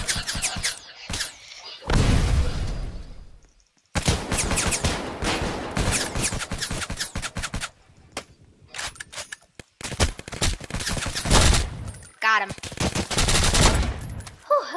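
Gunfire in a firefight in the video game Oil Warfare Tycoon: loud, dense bursts of automatic fire and single shots in several long volleys, broken by short pauses.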